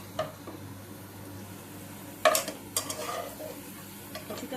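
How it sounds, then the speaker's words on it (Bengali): Onions frying in a pan while being stirred, a soft steady sizzle broken by a few sharp scraping and clinking strokes of the spoon near the middle, with no talking. "পেঁয়াজটা ভাজা ভাজা হয়ে গেছে, এগুলোকে আবার তুলে নেব।"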